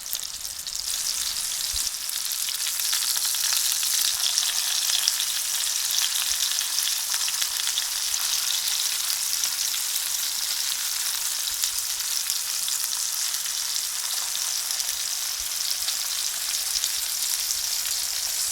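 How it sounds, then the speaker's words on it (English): Shrimp cakes fry in a pan with a loud, even, continuous sizzle that holds steady throughout, with no voices. "Allowing these to grill for a good 2 to 3 minutes on each side, it's time to flip them on the other."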